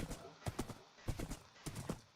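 Hooves clip-clopping from horses in a survival-crafting video game, a few spaced bursts of clattering steps at moderate level with a faint background under them.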